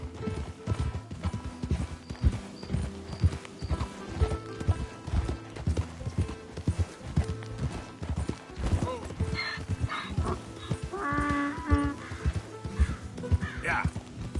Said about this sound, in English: Just a donkey, idiot.